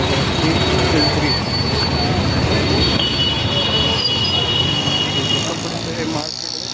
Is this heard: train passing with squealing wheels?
yes